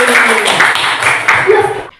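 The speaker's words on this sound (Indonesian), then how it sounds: "tepuk tangan untuk Asli" Young schoolchildren clap together in a classroom for a classmate, a loud, close burst of rhythmic clapping with voices mixed in, cutting off abruptly near the end.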